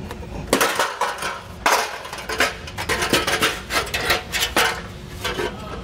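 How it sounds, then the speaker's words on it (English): A metal heat shield is pried and scraped off its studs beneath a 2022 Ford Explorer, giving close, irregular metallic clanks, rubs and rattles in uneven bursts with no talking. "our heat shield has some tabs that kind of bite onto the studs, so just kind of pry away to pull this down"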